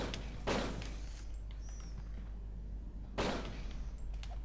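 Two loud, sharp gunshots from the video game Fighting Force 2, spaced a few seconds apart over a low, steady background hum.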